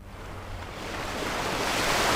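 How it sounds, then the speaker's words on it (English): Ocean wave sound effect played in a Scratch dodge-the-ball game, a broad rushing surf wash that swells steadily louder over about two seconds, heard alone without speech. "I hope you heard the ocean wave."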